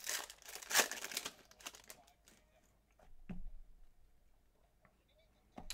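Crinkly foil wrapper of a baseball trading card box torn open close by, bursts of sharp crackling and ripping that come and go with pauses, while someone talks over parts of it.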